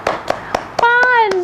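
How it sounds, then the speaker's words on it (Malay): A young boy claps his hands four times in a steady rhythm, then an adult's voice speaks over a final clap. "Tepuk tangan."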